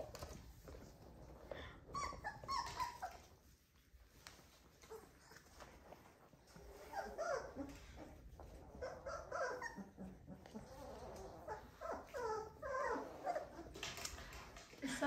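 Young puppies from a three-and-a-half-week-old litter whimper and yip intermittently at close range, with soft shuffling movement and occasional talking over the top.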